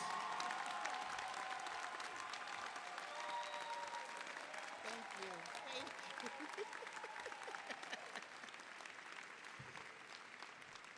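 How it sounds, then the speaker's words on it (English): Sustained applause from an audience at a college graduation ceremony fills the space, with some voices and cheers mixed in, gradually softening over several seconds. "Give her a round of applause."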